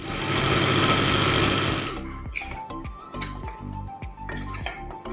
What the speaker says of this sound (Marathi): आता आपण हे मिक्सरला एक दोन मिनटं छान सगळं फाईन मिक्सी करून घेऊया